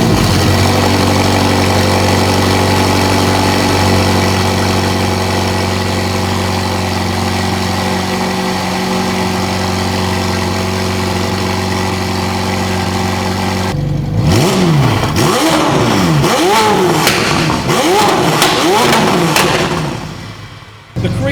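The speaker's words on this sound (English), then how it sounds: "give you guys a cold start and some revs" A McLaren 720 engine idles steadily at a high cold-start rumble, then revs sharply several times in quick, loud bursts.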